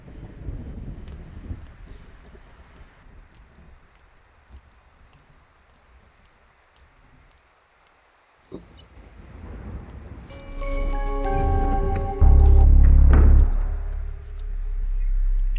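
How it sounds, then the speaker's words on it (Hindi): Heavy rain hisses steadily through a dark night with the power out, then a deep, loud rumble of thunder swells and rolls in over the last few seconds, no one speaking. "एक तो बारिश भी नहीं रुक रही"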